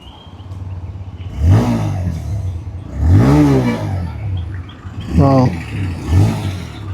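A 2026 TVS Raider 125 Doom Edition 125cc motorcycle in power mode starts up, then gives several sharp throttle blips that rise and fall over a steady idle, heard up close.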